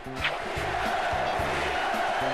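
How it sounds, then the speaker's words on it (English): A Boston Garden basketball crowd chanting "Beat LA" in rhythmic, repeated bursts, a loud, dense mass of voices roaring continuously throughout. "You hear the crowd chanting to the Sixers?"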